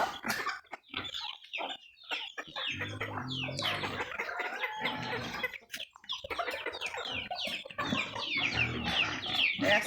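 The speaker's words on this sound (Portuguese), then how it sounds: "É assim, é galinha." Backyard chickens cluck and squawk almost continuously, several birds close by with overlapping calls and a few louder bursts, and there is little else in the background.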